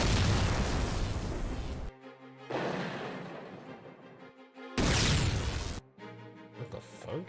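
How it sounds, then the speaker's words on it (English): Two loud, booming blasts from the Halo 4 Lich explosion, running in a Halo 3 mod, each a roaring rumble of a second or two, separated by quieter game ambience with tonal hum. "Lich fire. Lich explosion, that sound!"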